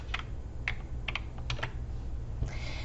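Several crisp computer keyboard key clicks in quick, uneven succession as a shortcut is pressed in Photoshop, close and fairly quiet over a low steady hum, with no voices.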